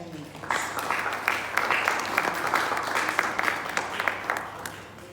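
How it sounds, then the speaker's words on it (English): Audience applause at the opening ceremony of the Black Star International Film Festival, a sustained wash of clapping from a crowd in a hall, steady and moderately loud throughout. "A round of applause for our filmmakers."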